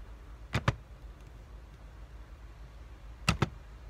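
Two quick pairs of sharp metallic clicks, a few seconds apart, from a seatbelt buckle latching inside an empty car, close and otherwise quiet.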